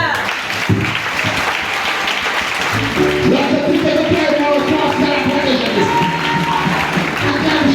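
A church congregation at a Sunday service breaks into loud, sustained applause and cheering for Jesus, with voices and musical tones rising through the clapping.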